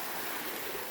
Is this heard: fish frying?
no